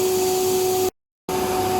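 A PVC ceiling extrusion production line with a conical twin screw extruder, die head and vacuum calibration table runs with a loud, steady broadband hum and a faint tonal whine, cut by a brief dropout of silence before resuming.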